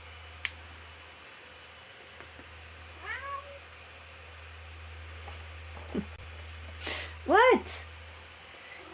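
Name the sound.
cat Sue mewing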